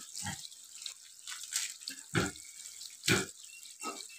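Water splashes and pours in several short bursts as it is mixed with potash, red potash solution for disinfecting a pig farm, with loud irregular gushes alone and no talk.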